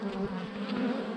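Honeybees buzzing at an opened hive, a dense, steady hum close by with no voices.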